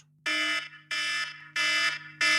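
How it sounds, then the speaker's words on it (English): A fire-alarm-style buzzer sounds in four loud, evenly spaced blasts of harsh tone, each about a third of a second long, over a faint steady hum. "When the alarm goes, we will hear this sound"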